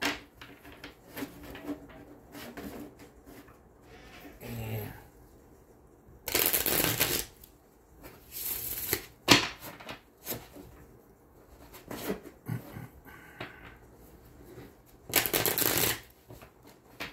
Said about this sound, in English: I'm going to shuffle my tarot real quick